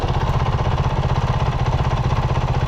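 A Honda CRF450RL motorcycle engine with its stock exhaust pipe idles steadily up close, a low rumbling throb with a fast, even pulse and no voices.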